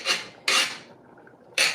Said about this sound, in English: I'm just chopping down these peppers right quick